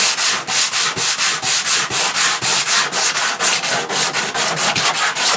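Sanding off filler by hand, a steady, loud, close back-and-forth rasp in quick even strokes that continues without pause, with no voices.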